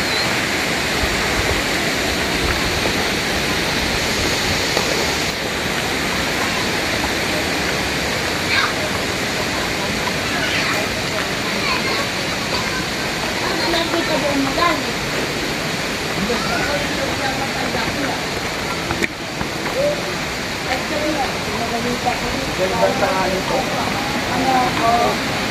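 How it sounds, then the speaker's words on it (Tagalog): Pinlac Falls in Infanta, Quezon, roars as a loud, steady rush of falling water throughout, with people talking faintly beneath the noise. "Ang ganang falls, oh."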